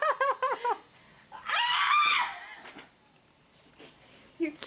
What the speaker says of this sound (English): You can't scream like that.